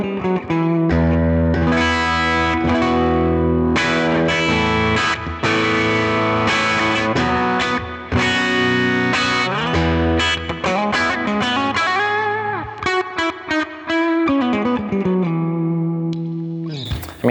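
A Kiesel Jason Becker Numbers electric guitar on the bridge pickup plays a loud, heavily distorted riff with dense chords and fast single notes, continuous and close, ending in a sustained bend, with no voices.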